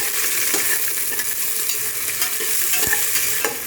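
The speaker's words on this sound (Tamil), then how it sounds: "ஆனியன்ஸ் ஃப்ரை ஆகணும்." Onions frying in a pan for pudhina rice give a dense, continuous sizzle, with a few light clinks of stirring.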